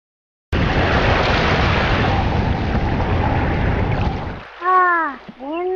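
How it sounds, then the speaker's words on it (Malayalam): A strong cartoon wind gusts loudly and steadily for several seconds, then fades out, and a voice follows with tonal, rising and falling speech at the end. "എന്തൊരു കാറ്റ്!"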